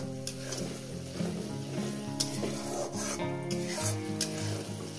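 Masala for egg curry fries and is stirred in a pan over medium-low gas, giving a quiet, steady sizzle with scraping, rasping strokes of the spoon and a faint tonal hum underneath.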